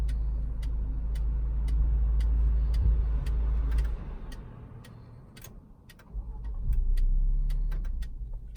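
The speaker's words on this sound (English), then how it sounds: "The car central lock and the steering wheel are unlocked and the engine starts." A 2019 Lexus RX 300 unlocks with a run of regular sharp ticking clicks, then its engine turns over and settles into a low idle hum that dips and swells again, heard up close without talk.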